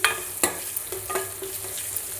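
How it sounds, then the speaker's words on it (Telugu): Spices sizzle in hot oil while being tempered for a cabbage chutney, a constant close-up frying hiss punctuated by sharp crackles and stirring clicks. "దీంతో కొద్దిగా లైట్గా పోపేస్తున్నానండి ఆ పోపేస్తే ఆ ఫ్లేవర్ బాగుంటుంది"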